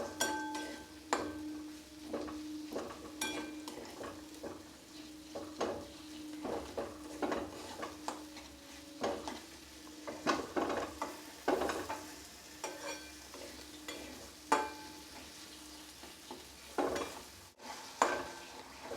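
Spice masala for dal palak being sautéed and stirred in a pan over medium-low heat, with steady scraping strokes of a spoon against metal and a soft sizzle underneath, close and continuous with no talking.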